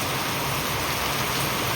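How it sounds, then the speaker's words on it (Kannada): Heavy night rain around 8 pm roars loud and unbroken, a dense hiss of downpour with no voices. "ಮಳೆ ಮಾತ್ರ ಮಸ್ತ್ ಬರಾಕೈತಿ."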